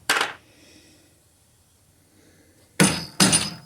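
Hammer blows on an aluminium alternator cover during repair, a sharp metallic knock followed after a quiet pause by two quick heavy strikes close up.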